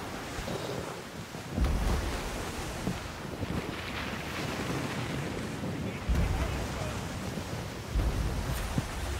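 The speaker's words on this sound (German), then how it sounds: "Wow, hier sind einige hohe Wellen neben uns." High ocean waves surge beside a sailing ship in the video game Skull and Bones, a loud continuous wash of surf and wind with periodic heavier swells.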